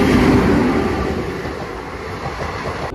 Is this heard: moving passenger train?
yes